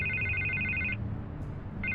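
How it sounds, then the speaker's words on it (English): A telephone rings in the video game Batman: The Telltale Series, with two bright electronic trill bursts separated by a short pause over a quiet room tone. "I can't get the phone to stop ringing."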